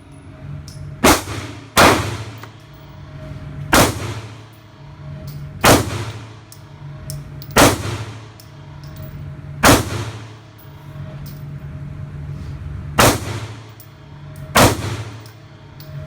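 A Remington R51 Gen 2 pistol fires at an outdoor range, eight or so sharp, loud cracks spaced a second or two apart, each followed by a brief ringing tail, with no talk.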